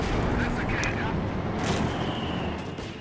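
Mortar fire in the real-time strategy game Company of Heroes 2, a dense, rumbling barrage of distant blasts and booms heard beneath steady background battle noise.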